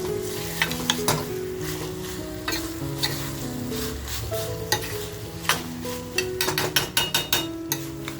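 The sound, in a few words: dried fish frying in pan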